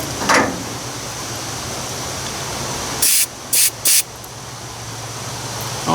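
Air is blown into the fuel tank and mixer of a Ford 800 tractor, coming as three short, sharp hissing bursts over a steady low background hum, with a brief earlier puff near the start.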